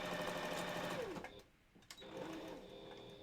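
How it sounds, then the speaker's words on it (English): Sewing machine stitching fabric for a wolf balaclava, running in a steady rapid whir, pausing briefly near the middle, then starting up again close to the mic. "we've got, like, 4 inches to sew"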